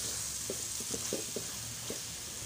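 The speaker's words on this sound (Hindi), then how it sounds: "यहाँ पर अब हम अपने मसाले को इतना भूनेंगे कि जब तक जो है ये ऑयल ना छोड़ दें" Masala spices for pav bhaji fry in oil in a pan, giving a soft continuous sizzle with a few light stirring scrapes, close and fairly quiet with no talking.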